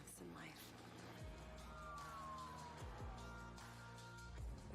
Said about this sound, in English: I hate police sirens.